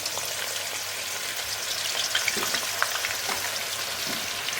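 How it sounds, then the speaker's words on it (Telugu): Onions frying in hot oil for a vegetable biryani, a steady, dense crackling sizzle throughout with a few sharper pops near the end, no voices. "ఫ్రైడ్ ఆనియన్స్ కావాలి కాబట్టి ఆయిల్ హీట్ అయిపోయింది. సో ఈ ఆనియన్స్ వేసుకుందాం."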